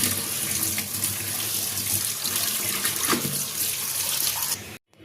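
A kitchen tap runs steadily into a sink while small salted sea fish are rinsed and rubbed clean, a loud continuous splash that cuts off abruptly at the end.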